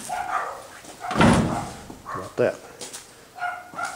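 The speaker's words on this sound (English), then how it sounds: "And there's that stupid dog again, right on cue." A dog barks at a junkyard, a few loud barks and yips at moderate distance, mixed with a voice talking nearby.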